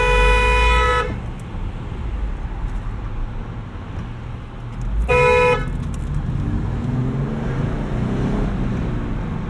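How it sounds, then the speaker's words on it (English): Two loud blasts from the horn of a 2017 Jeep Wrangler Unlimited, one at the start and another about four seconds later, each about a second long, over steady road and wind rumble from inside the moving vehicle. "you're gonna find out what this horn sounds like"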